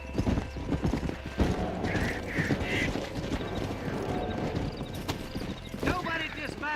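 Horse hooves clopping steadily in a Western video game, a busy rhythmic clatter with a brief whinny, while voices talk over it throughout.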